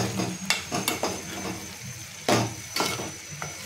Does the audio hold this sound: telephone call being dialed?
no